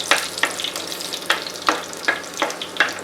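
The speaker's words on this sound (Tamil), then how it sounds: "பூண்டு இதை நல்லா வதக்கி விடுங்க." Crushed garlic cloves sautéing in a hot pan for a crab curry, a steady crackling sizzle punctuated by repeated sharp scrapes and stirring strokes, close and fairly loud with no talking.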